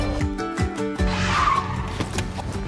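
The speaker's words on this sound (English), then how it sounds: "The tire blew." A car tire blowing out, then a skid with rumbling engine and a rising squeal of rubber on the road, loud and close.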